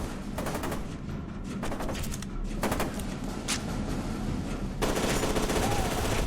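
Dense automatic gunfire and rapid shots in an Xbox 360 shooter game, rattling bursts continuing almost without pause and staying loud throughout, with a brief voice underneath.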